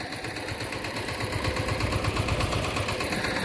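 A Mahindra tractor ploughs a peanut field, its engine giving off a moderately loud, rough, pulsing chug that grows slightly stronger and keeps going without a break.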